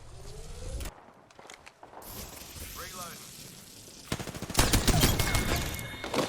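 Gunfire in the video game Apex Legends: a broadband burst of rapid shots swells near the end, louder than the scattered earlier game effects and brief footstep-like sounds, with a player's voice over the action.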